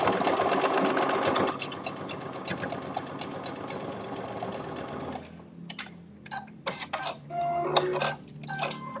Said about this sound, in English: I haven't been backstitching when I zigzag.